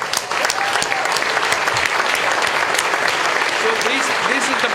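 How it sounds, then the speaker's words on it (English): An audience at the Clinton Global Initiative stage bursts into sustained applause, dense clapping from a large crowd that holds steady at full loudness for several seconds. "Let's give them a big applause."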